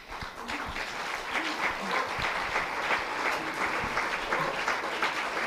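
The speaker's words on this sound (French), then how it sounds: "je n'ai pas envie d'interrompre les applaudissements parce que vraiment, vraiment, vous les méritez" An audience at a French school ceremony honoring teachers and a Polish language project applauds steadily, clapping close and fairly loud, with a few faint voices under the sustained applause.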